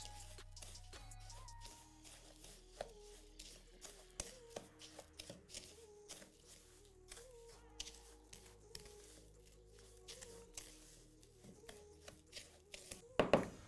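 Graham cracker crumbs being stirred with melted butter in a bowl, soft scraping and tapping strokes in an uneven rhythm, quiet and close, with a few sharper knocks at the end.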